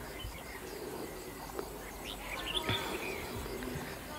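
A red-whiskered bulbul calls outdoors in a trapping setting, giving faint, scattered chirps and short whistled notes against steady background noise, with no voice present.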